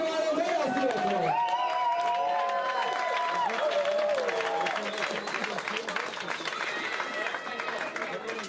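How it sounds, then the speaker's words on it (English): Spectators applaud at an IWWF wakeboard European and African youth and senior championship, with a dense outdoor patter of clapping and crowd noise running under a voice on a loudspeaker. "another round of applause for everyone"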